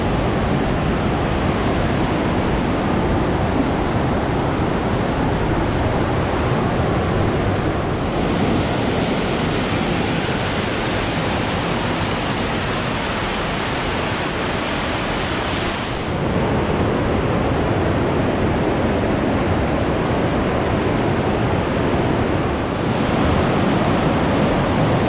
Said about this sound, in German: Also über eine Felsdecke, überall tropft es runter.